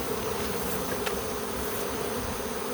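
A wet swarm of honeybees, grounded at dusk after rain, gives off a steady, even buzzing hum that stays constant throughout, close and without talk.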